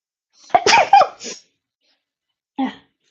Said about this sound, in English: I did have to sneeze.